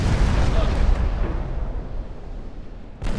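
Torpedo detonation in the naval game Ultimate Admiral Dreadnoughts, a loud, deep, rumbling blast that fills the start and fades over about three seconds before a fresh rush of noise swells at the end.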